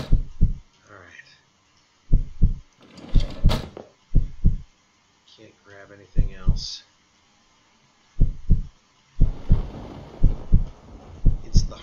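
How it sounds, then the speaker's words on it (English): In the horror video game One Late Night, a loud, close heartbeat thumps in slow, paired beats that come and go, while someone speaks briefly between them. "Heartbeat now that's kind of freaking the hell out of me. I assume it's our heartbeat."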